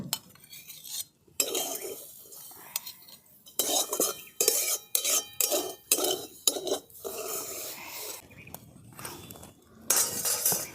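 Metal utensil scraping spice paste around a wok and cleaning it out, a series of short rasping strokes and clinks separated by brief pauses, close and fairly quiet.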